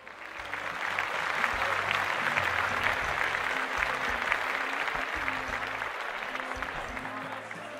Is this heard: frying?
no